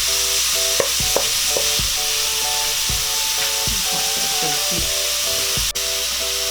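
Onions for pork humba are stirred in a hot pan, with a constant sizzling hiss. Regular spatula scrapes and knocks against the pan sound close by.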